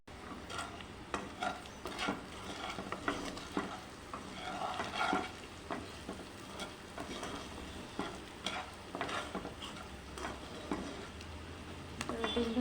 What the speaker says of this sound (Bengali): গরম গরম ডিম ভাজা।